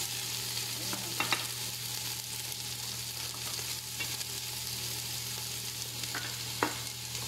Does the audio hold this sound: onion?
yes